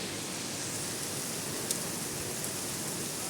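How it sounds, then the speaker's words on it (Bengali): Heavy rain pours down steadily in a town, a dense, even hiss of downpour filling the scene with no talking and only a faint tick or two above it. "প্রচুর বৃষ্টি হচ্ছে, প্রচুর।"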